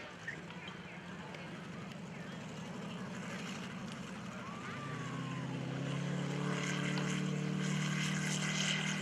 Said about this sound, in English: this airplane is actually powered by a 5-cylinder radial engine